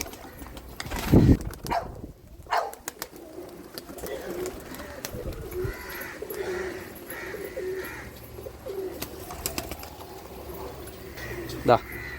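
Rampuri highflyer pigeons in a training loft coo softly and repeatedly, with a brief burst of wing flapping near the start, while someone talks over them.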